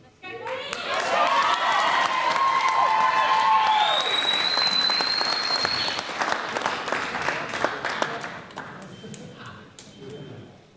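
Spectators at a fitness competition cheering and clapping for athletes Belle and Jess, steady applause with whistles and shouts over rhythmic thuds from the competition floor, and an announcer's voice running through it.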